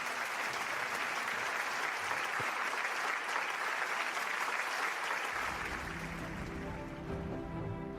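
A crowd at the 5th Rassemblement de l'Espoir gives a long, dense round of applause to welcome President Xanana Gusmão, steady and full before easing slightly near the end as a low hum enters.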